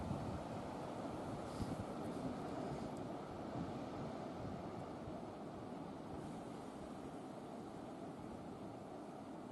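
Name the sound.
strong wind at the shore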